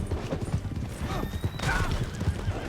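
Horse hooves clip-clop in a quick, uneven rhythm as the horse slows down in Red Dead Redemption 2, with a whinny and some mechanical clatter, moderately close.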